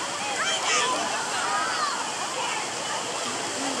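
Rushing, splashing water at an outdoor waterpark tube slide, with a big splash landing amid constant spray and churn close by; a person talks over it.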